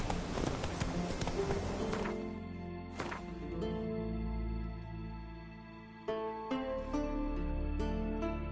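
Roach, a horse in The Witcher 3, gallops with a steady clip-clop of hooves under game music and ambience. The hoofbeats are clearest at the start.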